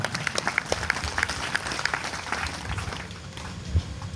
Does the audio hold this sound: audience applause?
yes